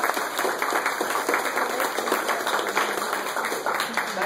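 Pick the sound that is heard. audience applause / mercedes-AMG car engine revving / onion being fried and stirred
audience applause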